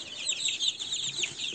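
Broiler chicks clucking and chirping softly as they peck at stinging nettle, a steady run of small close calls with no voices.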